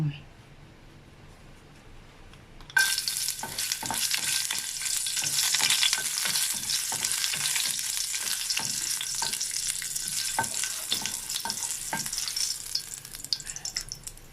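Green peppercorns stir-fried in hot oil in a Thai home kitchen for a catfish stir-fry, starting quiet, then breaking into a loud, steady sizzle with scattered scraping stirs.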